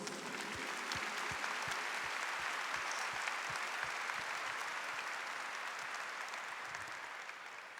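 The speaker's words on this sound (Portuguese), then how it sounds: "Vamos aplaudir a Jesus?" Steady applause from a large church congregation during a sermon fills the whole stretch, dense and even, fading slightly toward the end.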